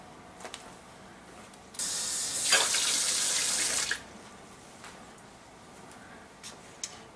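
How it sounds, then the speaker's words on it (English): Tap water runs into a hydrogen water bottle in a single two-second hissing stream, fairly faint, set among quiet clicks and handling noises. "So I'm going to go ahead and fill this with some water"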